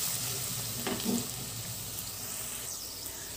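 Onions frying in a pan for an Andhra-style mutton curry, a steady faint sizzle with a brief stir partway through, no voices.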